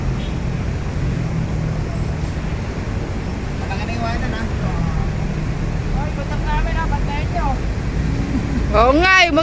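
Boat motor running on a fishing trip, a steady droning hum through the whole stretch, with people talking and a louder burst of sound near the end.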